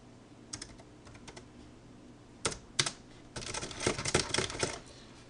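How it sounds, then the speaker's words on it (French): Keys clatter on a computer keyboard as text is typed in a word processor, starting with a few scattered taps, then a brief pause and a denser run of quick, close keystrokes. "et puis je vais taper du texte"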